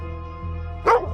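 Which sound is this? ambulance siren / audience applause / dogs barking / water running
dogs barking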